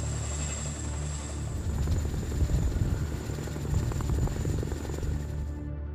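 Large US military helicopters during an invasion exercise, a steady loud rotor thrum and engine whine with a persistent high turbine tone, close and continuous with no voices.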